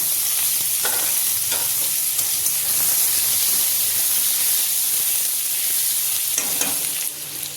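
Onion, carrot and potato sizzling in a pan for oats khichdi, a steady, loud frying hiss with occasional stirring scrapes throughout, no voices.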